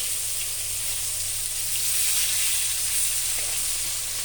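Pieces of bhola fish fry in hot oil in a pan, giving a steady, even sizzle and hiss that stays constant throughout, with no talk.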